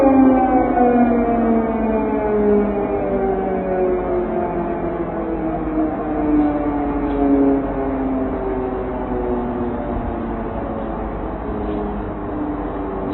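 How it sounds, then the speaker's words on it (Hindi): An air raid siren wails over Kyiv, a steady, loud, sustained tone that slowly drifts in pitch and carries through the whole stretch with faint background noise and no voices. "कीव की तस्वीर आपके सामने है जहां पर एयर रेड सायरन बज रहा है"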